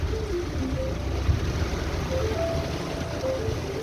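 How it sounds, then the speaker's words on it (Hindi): Steady heavy rain hissing and pattering continuously, fairly close, with no voices. "बहुत तेज़ बारिश है"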